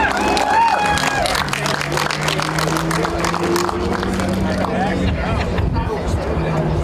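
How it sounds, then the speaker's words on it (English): An audience at a race trophy ceremony at Daytona applauds and cheers loudly and continuously, dense clapping mixed with crowd chatter and shouts for the whole stretch. "Let's give a round of applause."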